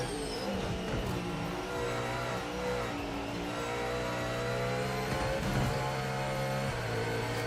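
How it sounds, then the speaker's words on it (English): A race car in Project Motor Racing holds its engine against the rev limiter, a steady, loud, buzzing drone with slight wavering pitch and no break. "I gotta get off the rev limiter."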